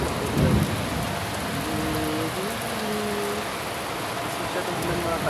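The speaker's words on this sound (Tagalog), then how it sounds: "Lakas ang ulan mga ka-idol." Heavy rain pours down outdoors near a push cart, a steady dense hiss of drops on surfaces with a faint rumble, continuous and loud throughout, with a voice briefly under it.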